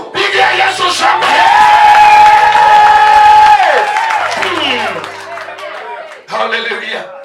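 Church congregation at a revival ministry service cheering and clapping loudly, a sustained roar of voices and applause that fades, then a short final burst.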